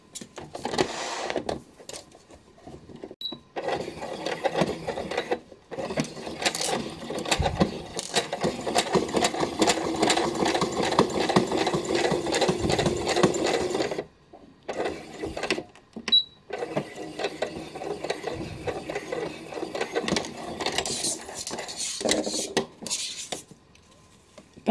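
A sewing machine runs in several bursts while stitching a closing seam on a fabric Easter basket, with pauses and some clattering between runs.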